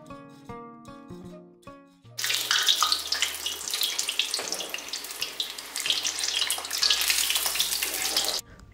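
Pastry pieces fry in hot oil over a medium flame, a steady loud crackling hiss that starts abruptly after a few quiet seconds of clinks and runs on densely until it cuts off near the end.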